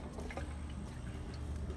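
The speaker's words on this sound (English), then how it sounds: "it's splashing now" Water splashes and trickles inside a Tower Garden airlift pump, a soft, continuous bubbling and dripping patter heard close up and faint, with no voices.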